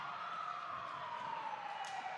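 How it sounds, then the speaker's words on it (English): A siren wails steadily at a badminton match, one continuous tone slowly falling in pitch over a couple of seconds, moderately distant behind the hall's background noise. "I don't know what that siren is for."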